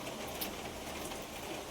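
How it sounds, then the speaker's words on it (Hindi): Heavy torrential downpour pouring steadily outside, a dense continuous hiss of rain on surfaces with no letup, fairly close and filling the whole moment alone. "बहुत मतलब मूसलाधार बारिश जो बोलते हैं ना, वही वाली बारिश लगी है बाहर।"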